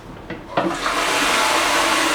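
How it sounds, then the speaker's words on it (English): Tap water runs into a 2-liter watering can, a couple of knocks then a steady bright rushing stream that holds strong and even to the end. "I'm just going to fill my watering can"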